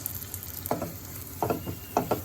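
Dry coconut powder gets stirred in a frying pan, its soft scraping strokes coming every half second or so over a steady, gentle sizzle, close and fairly quiet, with no voices.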